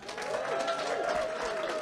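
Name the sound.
audience applause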